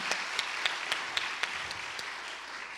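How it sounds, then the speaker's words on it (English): A small workshop audience claps for a singer, a moderate, fairly steady patter of hands with a few sharper individual claps standing out. "Another round of applause for Robin."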